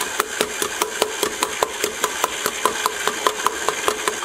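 Old KitchenAid stand mixer with its dough hook kneading dinner roll dough, a loud steady motor hum with rhythmic knocking slaps as the dough flaps against the bowl roughly four times a second.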